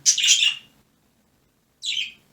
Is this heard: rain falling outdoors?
no